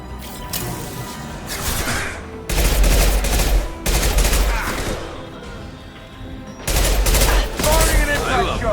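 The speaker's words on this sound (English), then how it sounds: "Firing an impact shot!" Bursts of impact shot gunfire in Mass Effect, three loud separated volleys of rapid shots with whooshing and crashing impacts, a voice speaking between them.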